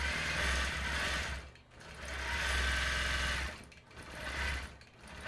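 A Gammill longarm quilting machine stitches a quilt edge to edge, a loud rapid mechanical whirring that pauses briefly twice between runs, with no talking.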